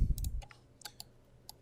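A few light computer mouse clicks in bridge design software, short dry ticks spread over under two seconds with a faint low thump at the start, no talk.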